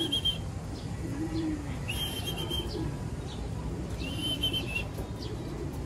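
Racing pigeons come back to their loft during a training flight from Tarlac, giving soft coos and bursts of wing flapping close by over a steady low background hum.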